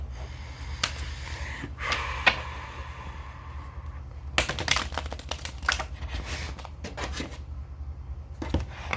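Tarot cards shuffled close by: soft rustling, then a quick run of crisp riffling snaps, with a low steady hum beneath.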